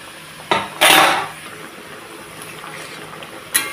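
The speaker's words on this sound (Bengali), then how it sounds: "তো এখন আমি এর মধ্যে মাছগুলো দিয়ে দিচ্ছি।" Fish pieces go into a pot of simmering mustard gravy for a hilsa-style curry, giving a few clinking, splashing knocks against the pot, one louder burst near the start and another at the end, with no talking.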